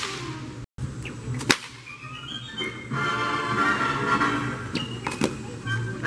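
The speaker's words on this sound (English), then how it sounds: "had to cut it with that whip" A whip is cracked at a Wild West show to cut dry spaghetti, giving a sharp snap near the middle over a steady background hum and crowd murmur, with a second fainter crack later.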